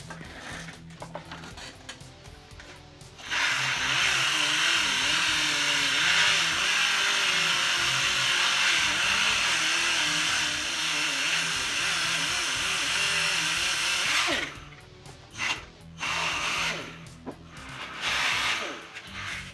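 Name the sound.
power sander sanding black walnut block into fine sawdust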